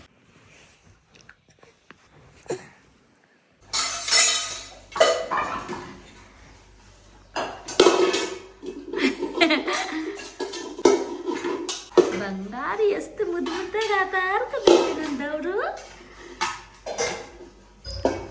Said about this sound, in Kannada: ಮಕ್ಳು ಈ ಥರ ಪಾತ್ರೆ ಎಲ್ಲ ಇಟ್ಕೊಂಡು ಆಟ ಆಡೋದು ನೋಡೋದಕ್ಕೆ ಇಷ್ಟು ಚಂದ ಅಲ್ವಾ